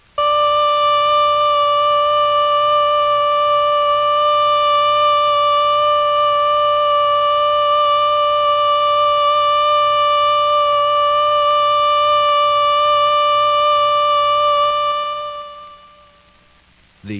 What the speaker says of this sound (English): The alert signal is a steady blast on a siren or fire horn of 3 to 5 minutes duration.